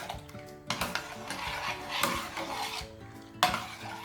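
Spoon stirring a hot welcome drink mixture with sugar and salt in a pot, scraping and clinking in uneven strokes, close and fairly quiet with occasional sharper knocks against the vessel.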